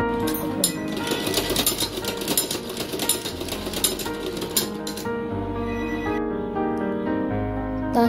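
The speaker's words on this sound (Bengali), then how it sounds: "সো আমি এখন সেলাই শুরু করছি।" Sewing machine stitching the folded edges of a small baby dress, a steady mechanical whirr and rapid needle clatter running continuously at close range, with a brief pause near the end.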